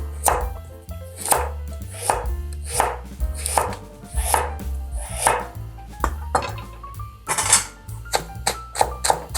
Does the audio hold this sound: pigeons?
no